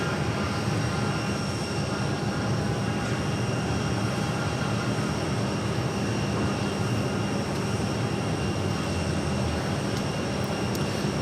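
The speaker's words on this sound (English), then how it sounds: "the E2 arriving on runway 8, coming in from Toronto" Steady, loud broadband jet roar from a Porter Airlines Embraer E2 arriving on runway 8 at Phoenix Sky Harbor, a continuous engine rumble holding level throughout with no one talking.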